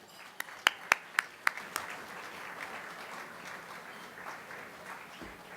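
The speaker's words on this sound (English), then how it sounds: "Let's give him a big round of applause." Applause at a civic awards dinner, beginning with a few sharp, separate claps that quickly merge into a sustained, moderately loud wash of clapping from the room, holding steady to the end.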